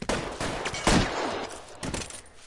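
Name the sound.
gunfire in the video game L.A. Noire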